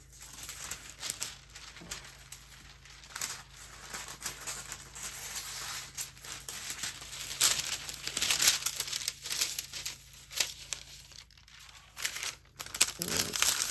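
Protective paper, freshly pulled off a roll, crinkles and rustles as it is handled for a sublimation transfer, with irregular crackling bursts close by over a faint steady hum.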